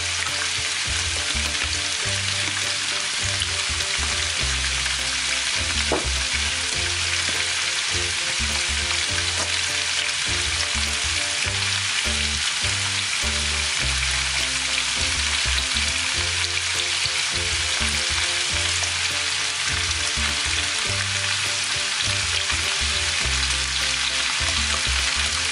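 Rice and vegetables frying in a pan with steady loud sizzling throughout, with occasional stirring scrapes up close and no talking.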